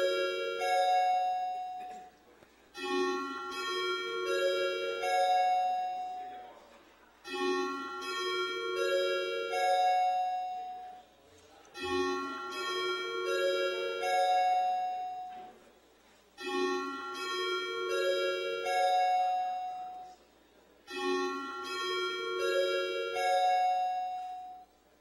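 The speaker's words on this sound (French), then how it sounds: "on va faire sonner les cloches et ouvrir les portes" Bells ring out in a council chamber ahead of a vote, a repeating pattern of bright chimes sounding in five bursts with short gaps between them, steady and fairly loud with no talk over them.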